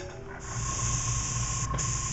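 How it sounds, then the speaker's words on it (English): A steady airbrush hiss spraying transparent black and purple paint, close and even, starting up and holding with one brief break near the end, with no voices. "Here I'm just starting to spray in a mix of transparent black and purple"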